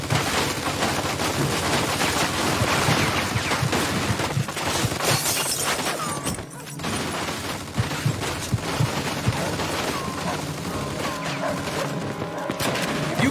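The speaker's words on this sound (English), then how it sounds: "Looks like we found the machine gun." Sustained machine-gun fire in a first-person war video game, dense and loud throughout with continuous bursts and crashing impacts, a brief dip near the middle before the firing resumes.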